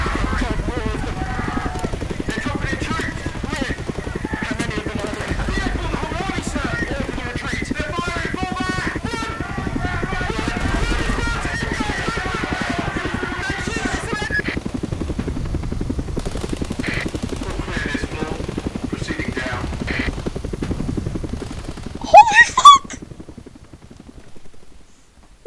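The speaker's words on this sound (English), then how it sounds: "Helicopters." Helicopters in the video game Not for Broadcast, a loud continuous rotor chop and engine rumble that drones steadily before cutting off abruptly near the end, with a brief burst of other sound.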